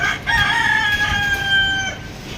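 Black Australorp rooster crowing once, a close, loud drawn-out call lasting under two seconds, with no talk over it.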